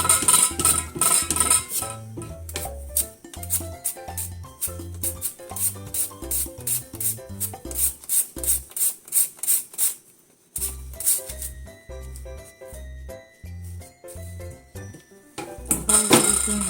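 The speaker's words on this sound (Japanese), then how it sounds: "これをね、薄切りしますよ。" Carrot being thinly sliced on a board, a fast run of crisp, regular chopping knocks, pausing briefly midway before the rapid cutting resumes.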